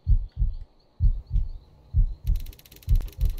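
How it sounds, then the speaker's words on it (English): A heartbeat thumps in the Roblox game The Watchtower Experience, deep paired lub-dub beats repeating about once a second, close and heavy, with a faint high tone and a rapid chirping pattern entering late. "Why is our heart beating so much?"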